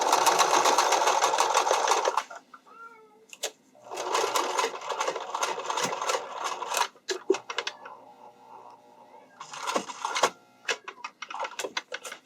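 A sewing machine stitches elastic onto an underwire casing for a bikini top, running in several bursts of rapid needle clatter separated by pauses, close by and fairly loud.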